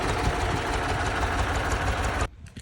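A T-30 tractor engine runs with a loud, steady rattling chug close by, then cuts off abruptly near the end, leaving a few faint knocks.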